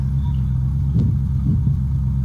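Car engine in the video game Unturned, a steady low rumble throughout with a couple of brief revving swells, no talk over it.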